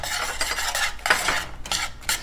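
Chopped pecans and brown sugar stirred in a hot pan, with a utensil scraping and clinking against the metal in quick irregular strokes, fairly close, no voices.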